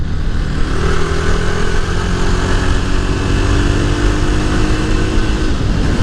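Jawa 42 Bobber cruiser motorcycle riding through city roads around a roundabout, its engine droning steadily and loud throughout with constant wind and road rush, no voices.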